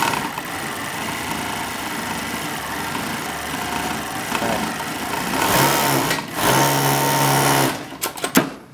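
A Pegasus W500 coverstitch industrial sewing machine runs in a steady, fast mechanical whir, close and continuous, with the pitch shifting toward the end before a few sharp clicks as it stops.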